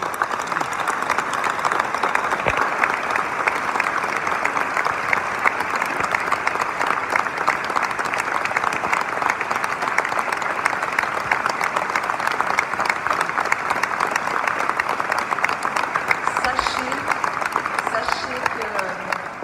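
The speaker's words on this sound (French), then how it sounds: "je voudrais qu'on vous applaudisse très très fort" A large audience in a reception hall at Paris City Hall applauds loudly and continuously for the whole stretch, a dense crackle of many hands with a brief spoken word near the end.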